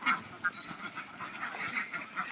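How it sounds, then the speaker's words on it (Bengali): Farm ducks on the bank of a small pond, quacking now and then in a scattered, moderately close chorus with brief louder calls, no speech. "হাঁসগুলো ভয় পাচ্ছে আসলে এই যে এই ছোট্ট গর্তের অভ্যস্ত না"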